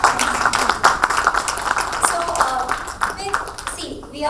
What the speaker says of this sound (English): We should give her a clap.